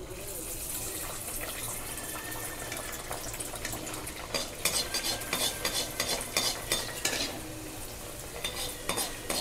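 Dal puri deep-fries in oil at medium heat, a soft bubbling sizzle near the pan, with clinks and scrapes of a utensil growing busier partway through while a person talks.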